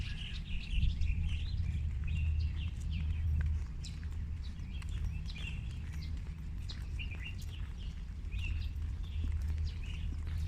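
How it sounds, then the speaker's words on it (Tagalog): Several birds chirp and tweet repeatedly in the background over a steady low rumble, with occasional soft footsteps or knocking. "Mga ibon."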